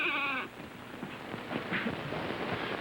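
A goat bleats with a loud, wavering cry in the first half second, then muffled shuffling and indoor noise carry on without any talk.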